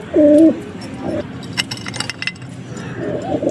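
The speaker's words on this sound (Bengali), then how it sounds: "মাদি পায়রা" A female pigeon gives a short, close coo at the start and another soft coo near the end, with faint clinks and light rustling in between.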